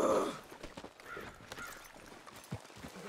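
Horse hooves clip-clopping with a short whinny in a video game, a loud burst at the start followed by fainter scattered hoof thuds.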